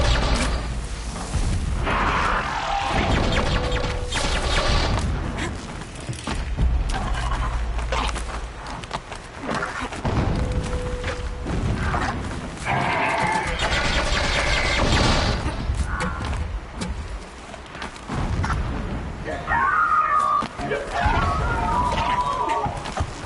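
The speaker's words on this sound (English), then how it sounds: "Explosions in the distance." Distant explosions rumble in the video game Horizon Zero Dawn, low muffled booms rolling in repeated waves across a noisy outdoor soundscape, with occasional brief bird-like calls above the din.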